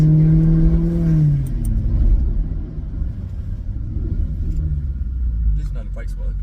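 A Maserati GranTurismo S engine rumbles close by, rising in pitch early and then settling into a steady low drone, with people talking over it.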